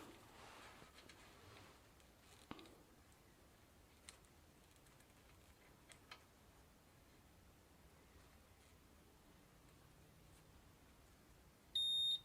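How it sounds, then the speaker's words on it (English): A multimeter set to continuity mode, used while testing a Shimano dynamo hub on a bicycle, gives one short, loud, high-pitched beep at the very end after a quiet stretch with faint clicks. "I set my multimeter to beeping or continuity."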